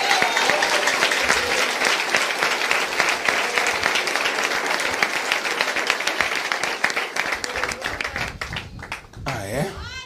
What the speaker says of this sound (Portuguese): Aplaude a revelação do Espírito Santo.